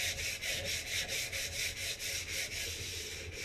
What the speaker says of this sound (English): After that, I'll take a little bit of sandpaper. Like I said, this is the back of the bow.